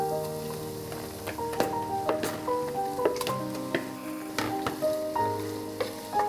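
Marinated chicken sizzles steadily in hot oil in a pan for a home-style chicken gravy, with continuous close frying crackle and repeated stirring scrapes and clinks.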